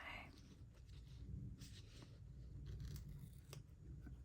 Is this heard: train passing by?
no